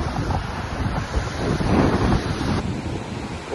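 Strong wind gusting across a mountain ridge on the route from Mongar to Lhuentse in Bhutan, a steady loud roar buffeting the microphone throughout, swelling near the middle and easing slightly toward the end, with no voices.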